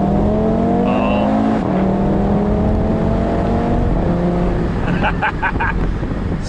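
A 2017 Audi TT RS Roadster engine revs and accelerates, its loud, close five-cylinder tone climbing steadily in pitch, then breaking into a few sharp blips near the end.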